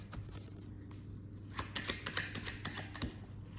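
Tarot cards shuffled and drawn from a deck, soft riffling and flicking card sounds building to a cluster of quick snaps, close and faint, no talking.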